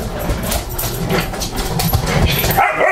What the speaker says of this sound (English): She's barking at my bike.